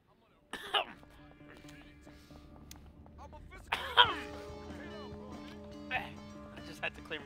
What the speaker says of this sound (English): Had to clear my throat real quick.